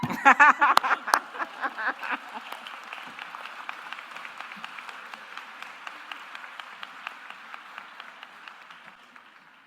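An audience at a law school commencement ceremony breaks into applause, loud and dense at first, then thinning into scattered claps that fade over several seconds.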